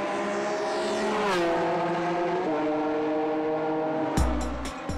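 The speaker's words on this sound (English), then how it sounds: "Pits up for the number 1 Belgium Racing Porsche." Number 1 Belgium Racing Porsche race car in the pits at the Zolder 24 Hours, its engine loud and near with pitch dropping through gear changes, followed by a sharp burst of clattering.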